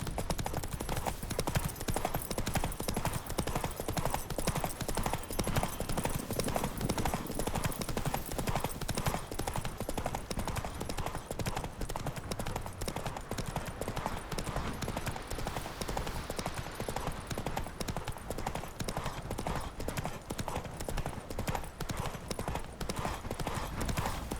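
Roach, a horse in The Witcher 3, gallops hard with a steady, rapid clip-clop of hooves that runs the whole way through, loud and close, over a dense wash of wind and movement.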